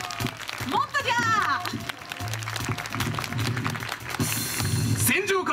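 Applause from an audience at an outdoor samurai warrior troupe performance, with clapping mixed into loud theatrical shouting voices and a low hum, the crowd's response rising and falling around the performers' calls.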